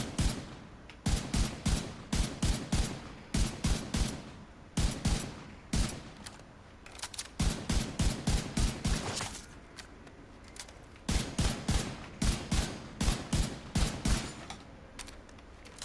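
Marksman rifle fire in a video game test range, loud rapid bursts of sharp cracks in repeated volleys with short pauses between them, close and with no voice over it.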